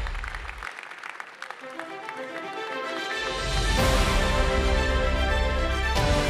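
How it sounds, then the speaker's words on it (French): Audience applause at a sports awards ceremony in a hall, starting as scattered claps that build into loud, sustained clapping from a large crowd, with a brief musical tone at the start. "Et on peut continuer à l'applaudir."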